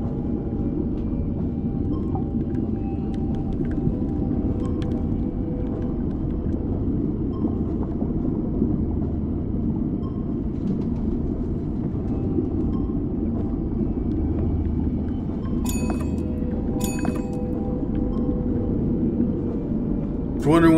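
Submarine engine in the video game Conarium, a steady low rumble that holds throughout as the vessel slows down and speeds up, with a few brief higher clicks near the end and no talk over it.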